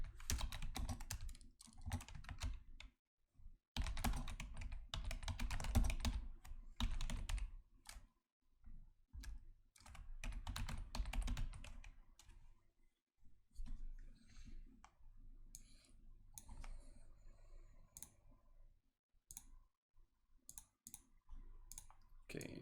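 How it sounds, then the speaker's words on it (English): Close, soft ASMR-style typing on a computer keyboard: bursts of rapid clicking keystrokes broken by short pauses and scattered single taps, with no talk. "I'm going to type this up differently."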